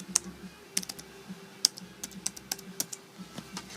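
Fingers type on the backlit keyboard of an MSI GT60 laptop, producing a dozen or so close, crisp key clicks in an uneven rhythm over a quiet room.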